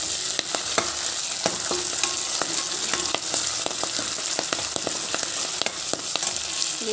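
Ginger and garlic frying in oil for a cabbage curry, a steady close sizzle broken by frequent sharp pops and spatters, with no talking.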